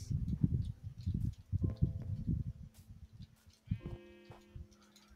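Minecraft sheep bleat repeatedly in a pen, a cluster of overlapping short, wavering calls at moderate volume, with soft background rustling and a few thin electronic tones toward the end.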